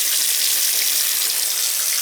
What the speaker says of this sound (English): We don't want too much water flow. It's got to be able to take it in the drain.